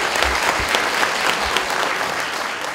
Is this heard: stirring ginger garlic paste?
no